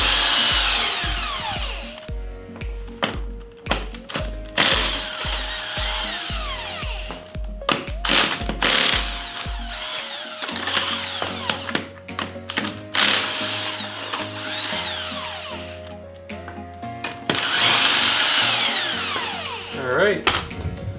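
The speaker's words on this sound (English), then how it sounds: "You can remove your 5 other lug nuts." Impact wrench run off a car's wheel lug nuts during a summer-to-snow tire swap, a rapid rattling hammer in repeated bursts up close, followed by ratcheting and metallic clanks as the nuts come free, with a voice speaking now and then.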